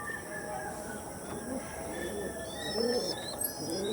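Soft pigeon coos rise and fall in the background amid a steady hum of ambient noise, with no clear voices.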